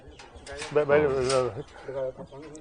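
Soft, throaty racing pigeon cooing in repeated rolling phrases, fairly close, mixed with a voice talking over it.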